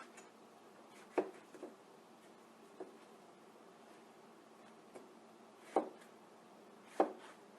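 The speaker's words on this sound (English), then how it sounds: "Now we're going to cut up an orange for the fruit salad." A Zelite Infinity 8-inch chef's knife slicing an orange on a board, a few sharp separate chops spaced seconds apart in a quiet room.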